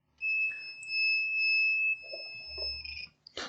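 A multimeter in diode test mode during a laptop motherboard repair, giving a clear, high-pitched continuous beep for about two seconds, followed by faint handling clicks and rustles close by.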